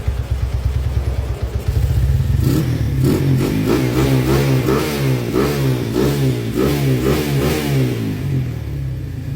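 A stroked-up Honda Tiger motorcycle engine idles with a quick, steady pulse, then revs hard and holds a loud, rising, throbbing roar close by with no talking.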